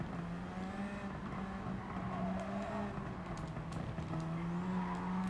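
Toyota Supra driven through corners on worn tires in Gran Turismo 7, its engine holding a steady, loud drone with slight pitch swells as it eases through the bends, with no talking over it.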